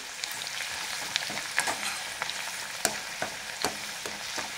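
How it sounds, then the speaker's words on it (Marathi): Garlic roasting in a pan over a medium gas flame, a steady close hiss of frying punctuated by sharp scraping clicks as it is stirred every second or so. "आता मीडियम गॅसवर आपण चांगला लसूण सोनेरी होईपर्यंत भाजून घेऊया, हलवत राहायचं म्हणजे एकसारखा भाजला जातो।"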